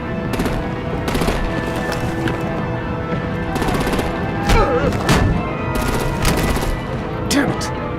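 Sustained bursts of rapid automatic gunfire and artillery rattle in an action scene from Batman: The Telltale Series, dense and loud with brief pauses between volleys.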